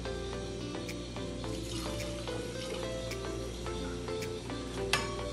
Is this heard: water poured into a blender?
yes